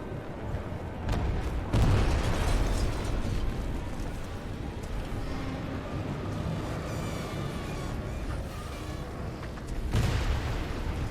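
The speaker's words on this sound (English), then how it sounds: "this arc explosion caused a lot of damage" An arc explosion in the video game Titanfall 2 opens with heavy booming blasts, then rumbling, crackling debris and layered combat noise, and a second loud burst comes near the end.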